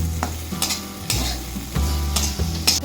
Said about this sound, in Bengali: কেটে রাখা পেঁয়াজের পাপড়িগুলো দিয়ে দেবো। আবার একটু নাড়াচাড়া করে নেব।